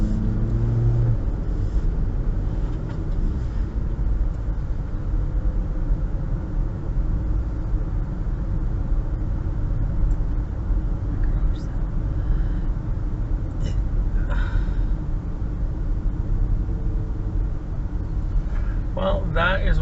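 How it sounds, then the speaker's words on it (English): Convoy of cars rolling past on a road near Gimli, a continuous low rumble and tire roar heard from inside a moving vehicle, with brief voices. "convoy of cars coming"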